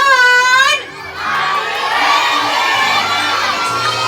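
Children at a seventh birthday party shout a loud, energetic cheer together after a countdown, a sustained crowd roar after a short host call that fills the room.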